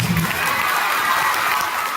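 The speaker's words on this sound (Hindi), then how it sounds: "सर के लिए एक बार जोरदार ताली बजाइए आप" Applause and cheering from an audience at a Khan Global Studies annual day event, a steady dense wash of clapping with shouts mixed in, loud and sustained throughout.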